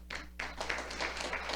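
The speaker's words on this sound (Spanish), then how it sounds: "Fuerte el aplauso para ellos." Faint applause from a church congregation greeting a visiting delegation, a soft, rapid patter of many hands over a low steady hum, fairly distant and quiet.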